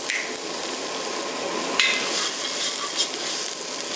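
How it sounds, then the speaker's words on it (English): Onions sauteing quickly in a pan for soup, a constant hissing sizzle with a couple of faint clinks of a utensil, with no talking. "the onions, you're just gonna saute them real quick, get some flavor out of it"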